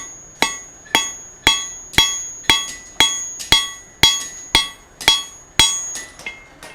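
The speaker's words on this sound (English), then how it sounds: "That is the advantage of the half face blows." Half-face hammer blows forging hot metal on an anvil, a dozen sharp ringing strikes in a steady rhythm about half a second apart, loud and close, each with a bright metallic ring.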